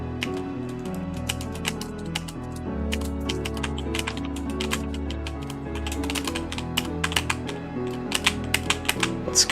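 Rapid computer keyboard typing and mouse clicks during a Roblox tower game, steady dense clatter of keys with sharper bursts near the end, over a continuous background of game music.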